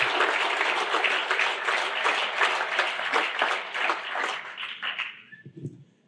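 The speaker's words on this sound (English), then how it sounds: "So why don't we give the Herb and Nancy Townsend Foundation a round of applause." An audience at a groundbreaking ceremony for an event space claps, a fairly faint, crisp patter of many hands that runs steadily for several seconds and then thins out into a few last claps and fades to quiet.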